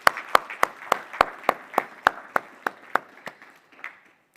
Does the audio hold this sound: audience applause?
yes